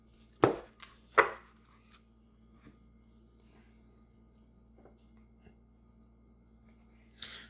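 Oracle cards are laid down on a table, a couple of sharp close slaps near the start followed by quieter taps and a final soft rustle in an otherwise quiet room.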